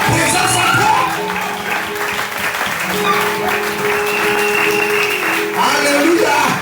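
A church congregation claps and cheers loudly and continuously throughout, a dense wash of applause with shouting voices rising and falling, swelling again near the end.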